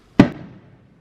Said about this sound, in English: a lot of them are like popping fireworks